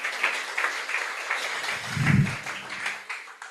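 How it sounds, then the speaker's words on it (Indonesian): Scattered clapping from an audience at a motivational talk on bouncing back, fairly faint and uneven, with a low thump partway through. "Tepuk tangan buat teman-teman semua"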